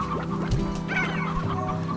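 Elder hen and elder rooster from Slime Rancher cluck in a busy, overlapping series of short calls over a steady game-music bed, fairly close and loud throughout.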